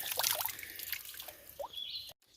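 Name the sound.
water flowing from mountain spring into box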